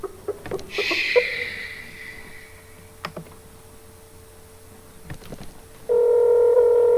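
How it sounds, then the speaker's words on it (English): A mobile phone call being placed: a quick run of keypad tones and clicks, a brief hiss, a steady faint tone, then a loud sustained ringback tone starting near the end, close and clear. "Let's see how many rings it's going to take for this fool to answer the phone"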